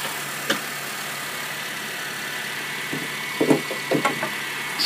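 A Honda car with a transmission problem idles with a steady, even hum, while a few short knocks and clunks sound close by toward the end.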